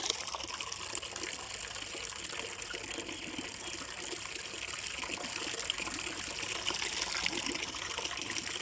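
Fresh water trickles and splashes steadily into chicken drinking vessels on a poultry farm, a continuous close pouring sound with no voices.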